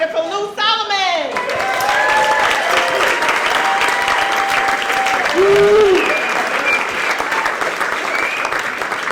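A comedy club crowd at Gotham Comedy Club applauds comedian Lou Solomon onto the stage with full, sustained clapping, scattered cheers and whoops riding on top, and a voice calling out near the start.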